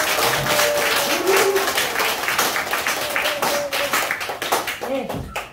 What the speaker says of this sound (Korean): 큰 박수로 맞으시면 고맙겠습니다